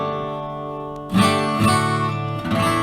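Acoustic guitar chords strummed in a few sharp down and up strokes, each ringing out briefly before the next, close and clear with no talking.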